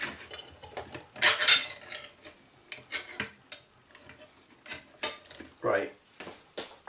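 Metallic clicking, scraping and rattling in short irregular bursts as a tin of Asda vindaloo curry is pried open, with occasional quiet murmurs.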